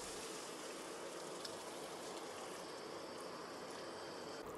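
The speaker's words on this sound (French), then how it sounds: "Dans cette sauce, rajoutez 200 g d'eau chaude" Hot water poured into a soy, sugar and vinegar sauce for an aubergine dish, a steady soft rushing pour that stays faint and even throughout with no talking.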